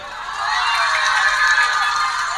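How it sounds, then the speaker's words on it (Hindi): A crowd at a village fair speech cheering and clapping together, a loud, sustained roar that swells after a brief start and holds steady throughout. "अगर विधायक जी का दिल जीतना है तो एक बार दिल से ताली बजा देना"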